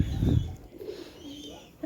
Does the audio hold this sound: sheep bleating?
no